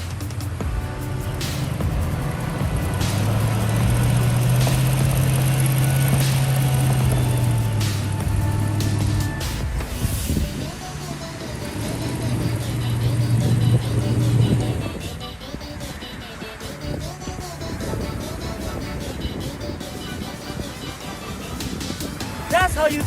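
4x4 off-road vehicle engine pulling out of a hole on traction boards, a loud steady drone that rises and falls twice as the throttle is feathered, with someone speaking over it.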